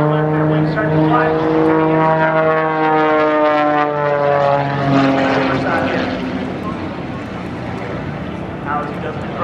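An aerobatic propeller airplane flies at the Battle Creek Field of Flight and Balloon Fest airshow, its engine a loud, steady droning whine with rising and falling pitch throughout, while an announcer talks over it.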